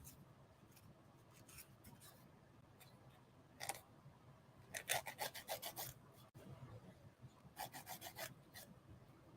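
A 100 and 180 grit nail file shapes gel tip nail extensions with quick rhythmic rasping strokes in short bursts, close up and fairly faint, with pauses between the series of strokes.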